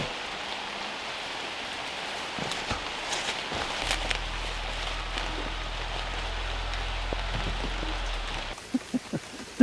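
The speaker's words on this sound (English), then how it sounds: "It's starting to rain heavier." Rain falls steadily in the woods beside a log cabin site, a dense even patter of drops with a low engine hum rising partway through and a few close knocks and rustles near the end.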